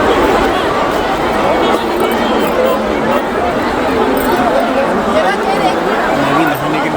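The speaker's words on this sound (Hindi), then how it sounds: "बहुत ज़्यादा भीड़ है दोनों तरफ गंगा घाट के। जहाँ देखो भीड़ ही है।" A dense crowd throngs the Ganga ghats at Haridwar, a steady loud babble of many voices mixing into a continuous hubbub with no single speaker standing out.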